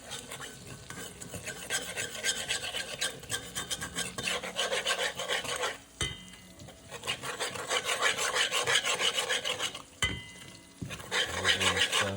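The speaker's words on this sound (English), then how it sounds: "All you're doing is stirring it around." Chicken curry gets stirred in a pot of oil with a continuous scraping, rasping utensil against the pot over a soft sizzle. The stirring comes in close, even strokes with two brief pauses.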